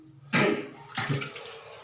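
Water gushes strongly from close by in a sudden burst, then keeps splashing and rushing more unevenly.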